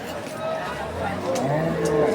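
Cattle, including Friesian cows and calves, low amid the murmur of a busy livestock market in Ambari, with overlapping voices and crowd noise in the background.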